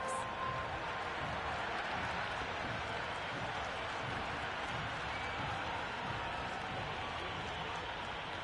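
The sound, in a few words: cricket crowd cheering at T20 match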